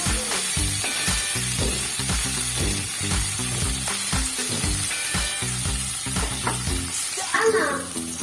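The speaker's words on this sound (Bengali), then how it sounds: "আমি একটু ভেজে নিচ্ছি পনিরগুলোকে" Paneer pieces frying in a pan, a close, bright sizzle under repeated rhythmic scraping and stirring strokes, with a faint clatter near the end.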